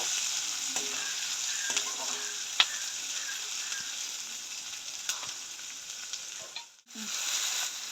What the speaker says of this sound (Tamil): நாங்கள் வந்து வெங்காயம், பச்சை மிளகாய், பூண்டு எல்லாத்தையும் வந்து போடுவோம். எண்ணெயில் வந்து நல்லா மிக்ஸ் பண்ணிடுவோம்